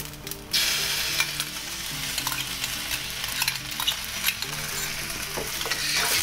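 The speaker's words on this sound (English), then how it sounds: "And now we throw in the sauce." Sauce hits sizzling American fried rice in a hot pan and gets stirred, a steady loud sizzle with scraping stir strokes and clinks over a low background hum.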